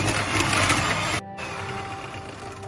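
A hand mixer beats Victoria sponge cake batter after vanilla essence goes in, a steady loud whirring drone that cuts off briefly and resumes slightly quieter.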